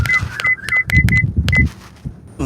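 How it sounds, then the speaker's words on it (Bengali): A phone rings with short, bright electronic beeps repeating in quick bursts over a low background rumble, then stops near the end. "আরে নসু ফোন দিছে।"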